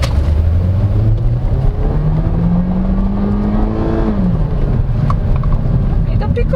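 A 2023 Volkswagen T-Cross SE crossover with a Tiptronic automatic transmission accelerates from inside the cabin, its engine note climbing steadily, then dropping at a gear change and rising again, loud and continuous.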